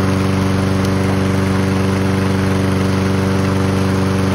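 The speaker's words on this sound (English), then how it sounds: "you're going to start your lawnmower just like that" A lawn mower engine runs steadily at a constant idle after starting, a loud, even droning hum with a buzzing rattle and no pauses throughout.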